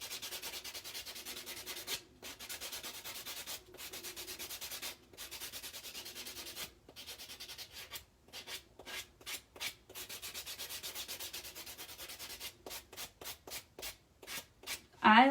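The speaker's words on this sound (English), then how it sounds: "when I do buff up, like near my cuticle, I actually tilt the block in so it just like goes right around that cuticle edge" A buffer block rubbing back and forth over fingernails near the cuticle, a close, soft rhythmic scratching in steady strokes broken by short pauses, with a voice talking faintly at times.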